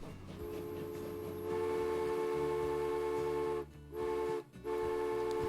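Steam locomotive running in the Transport Fever 2 railway game, a rhythmic chugging and clacking with a sustained whistle tone that holds steadily and then breaks off twice near the end, close and clear with no talk.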